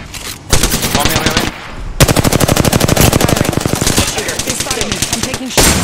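Rapid automatic gunfire from a first-person shooter game, loud and close, firing in long sustained bursts with brief pauses between them.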